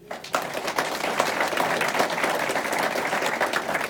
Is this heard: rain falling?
no